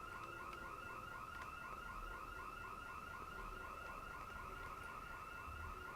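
A steady electronic alarm sounds inside the zombie survival game Project Zomboid, a repeating warbling tone that runs continuously and loudly through the whole stretch with no pauses and no voices.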